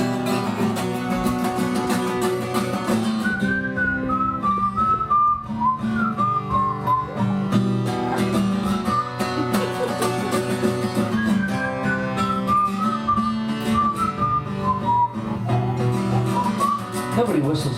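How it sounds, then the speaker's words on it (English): A performer whistles a bright melody over a full band at a live show at the Knob, the whistled line rising and falling loudly throughout alongside guitar and steady accompaniment. "Nobody whistles anymore."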